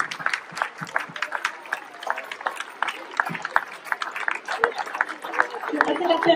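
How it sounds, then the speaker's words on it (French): Audience clapping for the volunteers at a Breton community charity event in Questembert, a steady ripple of applause running throughout, with a voice speaking over it at times. "On peut les applaudir."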